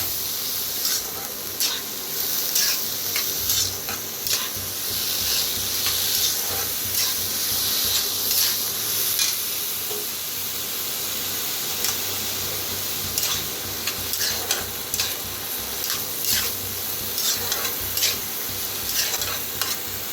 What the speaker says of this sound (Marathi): आता डाळीला बी मिक्स करून भाजून घ्यायचं